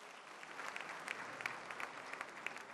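Applause from an awards-ceremony audience honouring nominees and future laureates, a steady, faint and distant patter of many hands with a few sharper claps standing out, alone without talk.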